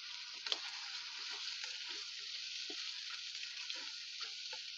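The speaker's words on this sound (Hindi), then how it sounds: "इसको अच्छी तरह से फ्राई कर देते हैं।" Tempering spices frying in hot oil for a dal tadka: a steady, loud sizzle runs throughout, with a few soft stirring clinks and taps from a utensil in the pan. No one speaks.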